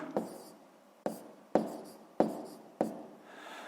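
Pen strokes on paper while working a sixth-grade math exercise come as five distinct, close scratchy marks spaced roughly half a second to a second apart, quiet, with no talking over them.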